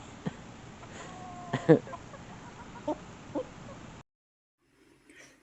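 Backyard chickens cluck softly on a farm, a few short clucks and a brief louder call over faint ambient hiss, ending in near silence.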